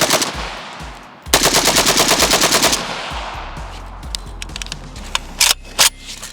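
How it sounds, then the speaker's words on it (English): A cheap AK rifle with a 40-round magazine is bump fired in a loud rapid burst of shots lasting over a second, followed by a few isolated pops and clanks. "I wanna see if I can get through as much as I can bump firing this thing."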